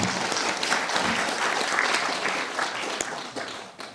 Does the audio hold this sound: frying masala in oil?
no